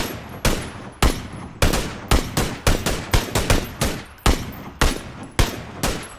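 Automatic gunfire from a PUBG match rattles out in loud, close bursts, a dozen or so sharp volleys at an uneven, rapid rhythm with short pauses between them.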